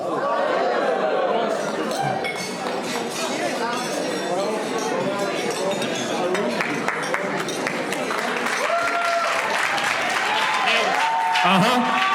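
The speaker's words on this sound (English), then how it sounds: "Round of applause." Wedding guests at a winery reception clap after a toast, scattered applause mixing with lively chatter and clinking glasses, with voices talking throughout.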